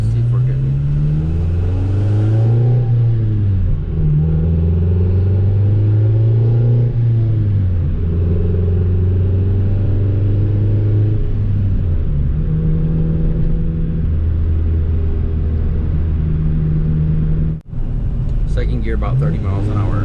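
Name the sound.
Honda Integra GSR with B18C1 engine driving in second gear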